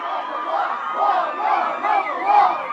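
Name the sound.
crowd cheering in a movie scene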